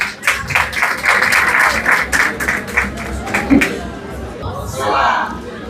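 An audience applauds Ariana at a Haitian performance, the clapping loud and sustained over crowd chatter before fading as a voice emerges.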